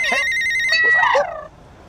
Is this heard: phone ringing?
yes